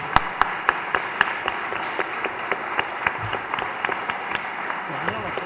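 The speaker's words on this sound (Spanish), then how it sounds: "yo propongo un aplauso para los dos expositores" An audience claps for two panel speakers at a lecture series on Argentina's 1989 election. The claps come as sharp, distinct strikes at a steady moderate level, with voices talking underneath.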